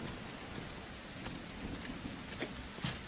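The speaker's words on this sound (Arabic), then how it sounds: "حي المطر." Steady rain hisses evenly at a house, with a few faint drip taps and thuds over the wash and no voices.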